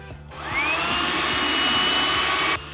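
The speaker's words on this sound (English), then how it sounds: "I'm just blowing up a couple floaties." A small electric pump inflating pool floaties switches on and whirs loudly and steadily for a couple of seconds, then cuts off abruptly.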